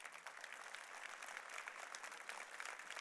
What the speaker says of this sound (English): Let's have a round of applause for all of our sponsors.